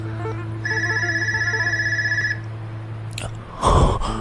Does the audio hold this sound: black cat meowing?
no